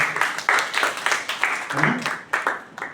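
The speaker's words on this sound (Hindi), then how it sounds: "तालियां बजा दो अपने लिए, आए आप।" Brief applause from a summer camp audience at a Brahma Kumaris motivational talk, a few uneven waves of clapping with distinct peaks, moderately loud and close, with some voice mixed in.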